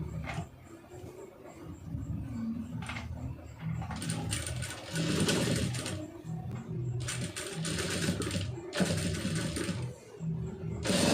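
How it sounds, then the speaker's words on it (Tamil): A sewing machine stitches thread piping onto a sleeve in rapid mechanical bursts, running in several loud stretches separated by brief pauses and clicks, close up. "கரெக்டாக அப்படியே ஒட்டில் தையல் போட்டுருங்க, துணி விலகிடாமல்"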